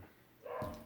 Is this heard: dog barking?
yes